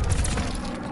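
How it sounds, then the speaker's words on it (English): A grenade explodes in a shooter video game: one loud, deep boom that fills the whole brief moment with low rumble and a crackling tail. "Incoming grenade."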